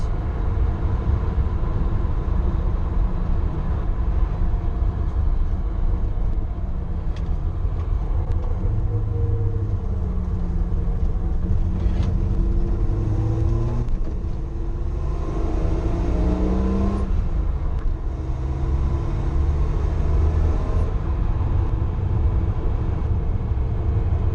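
A Datsun 260Z engine on a test drive after a tune-up, heard from inside the car: a steady, loud drone with a smooth hum that rises and falls through gear changes and acceleration, no talking.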